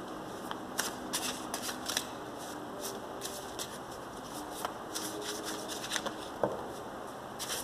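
A deck of tarot cards shuffled by hand, a steady run of close, crisp riffling and rubbing bursts repeating throughout, with no voices.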